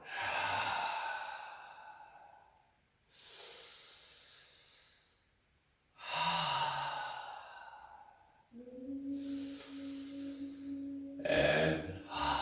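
A dance instructor exhales slowly and audibly during a flowing movement exercise, with long breathy hisses repeating every few seconds, close and clear, and a low musical tone underneath.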